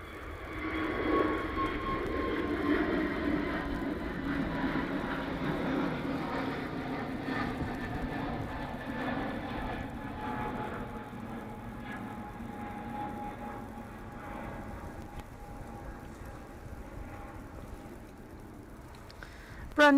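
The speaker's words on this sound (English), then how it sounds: "Brand new for 2024, the A321 Neos for KLM." A KLM Airbus A321neo jet airliner, brand new for 2024, rumbles at Manchester Airport with a steady broad engine roar and a faint whine that holds throughout, softening slightly toward the end.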